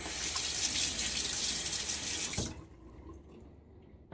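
A tap runs in a steady close rush of water for about two seconds while rinsing a vintage Gillette safety razor, then shuts off, leaving near quiet.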